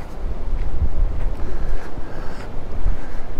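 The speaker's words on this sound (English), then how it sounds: "we got a cold north wind blowing" Cold north wind at a lakeside campground on Lake Texoma buffets the microphone, a loud, gusting low rumble that stays steady throughout with no talk.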